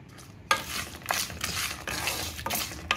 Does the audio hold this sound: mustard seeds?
yes